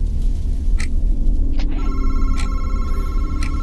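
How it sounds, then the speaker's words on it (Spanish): A telephone bell rings in repeated short bursts in the VR horror game Madison, over a steady low rumble of background noise, with no voices. "Y está sonando un teléfono."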